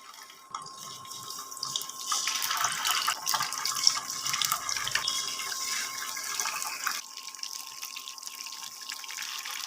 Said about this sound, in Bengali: একই তেলের মধ্যে মাছগুলো দিয়ে দিচ্ছি